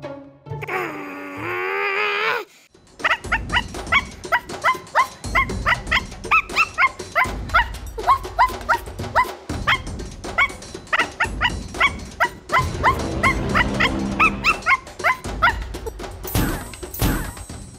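Cartoonish dog barks from the Roblox game Adopt Me ring out in a rapid, steady series of loud yips over a music-like background, after a brief whining tone at the start.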